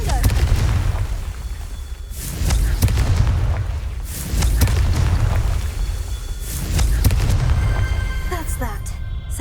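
Repeated Confringo fire-blast spells in Hogwarts Legacy, several loud booming bursts at a steady rhythm, each followed by rumbling decay, with a voice speaking in between.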